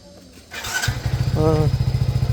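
A motorcycle engine cranks and catches, then settles into a steady, loud, rhythmic running putter close by after a brief burst of higher noise.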